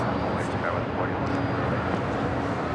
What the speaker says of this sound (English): that was United Airlines flight 1276, 737-900 ER